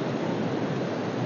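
Water rushes through the gates of Jurala Dam near gate 47, producing a loud, constant roar of broadband noise with no pauses or voices.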